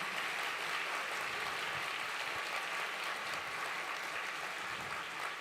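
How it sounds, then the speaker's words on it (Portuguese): A church congregation at a Christmas service applauds loudly and steadily, a dense wash of clapping that fills the space without pause. "Aplauda bem forte ao Senhor."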